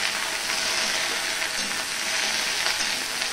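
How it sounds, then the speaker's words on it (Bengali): Okra frying in a pan gives a continuous bright sizzle and crackle, close and even throughout, with faint scraping of stirring underneath. "ভেন্ডিটা আমি কিছুটা ভেজে নিয়ে ফিরে আসছি"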